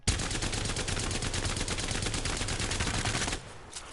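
Rapid automatic gunfire from a video game weapon, a dense unbroken burst of shots that runs loud for about three seconds and then cuts off abruptly.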